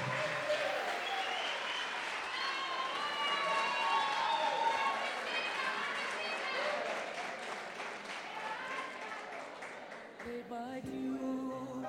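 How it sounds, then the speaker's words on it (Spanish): Sustained applause from a crowd at a tournament awards ceremony, steady clapping that carries on for several seconds before tapering off near the end. "Fuerte aplauso, don José Luis."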